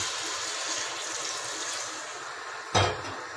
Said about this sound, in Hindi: ये देखें जी पानी इसमें हमने डाल दिया।